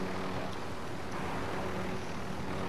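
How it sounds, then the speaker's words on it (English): A helicopter in Call of Duty: Modern Warfare, badly damaged, gives off a steady, loud rotor and engine roar with a broad rushing wash that holds constant and carries no speech. "this helicopter's almost dead"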